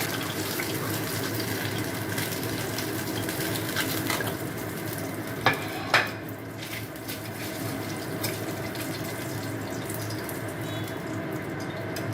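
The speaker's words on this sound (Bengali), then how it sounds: "এবার মাছটাকে আমি এক এক করে সব মাছই ভেজে নেবো।" Foloi fish pieces frying in oil for a Bengali fish curry, a steady close crackling hiss that runs throughout, with a couple of brief sharper clicks near the middle.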